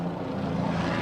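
Military helicopters fly over an Iraq War battlefield, heard as a steady, full rotor-and-engine drone that holds at constant strength throughout, with no voices.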